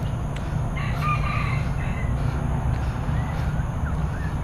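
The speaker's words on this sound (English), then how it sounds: "All the rooster, the chicken." Roosters and chickens in a village-like neighbourhood of Singapore crow and cluck faintly in the distance over steady low rumbling background noise on a morning walk.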